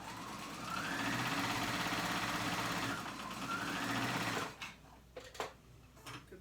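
A sewing machine runs continuously while stitching knit fabric on a dress pocket, a close, even whir that rises slightly in pitch, then stops and gives way to a few light clicks and handling noises.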